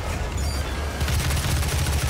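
A grenade blows up in the video game DOOM: a sudden heavy blast about halfway through, followed by rapid, rattling bursts of noise over a loud ongoing combat din.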